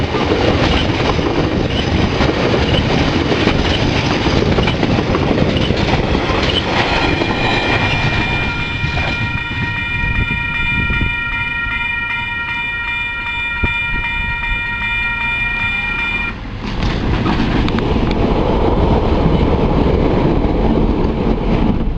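KiwiRail DC 4260 diesel locomotive rumbles past with loud clattering wheels and engine roar, a sustained sharp horn-like tone sounding in the middle before the heavy rolling noise swells again, no voices.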